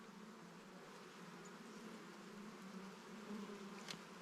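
Honey bees droning steadily inside an opened hive during an inspection, a faint continuous buzz that thickens slightly as the bees grow agitated, with no voices.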